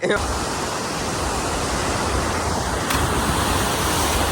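Water rushes steadily into a lake, a loud, dense, unbroken roar close to the microphone that holds constant throughout, with no clear voices over it.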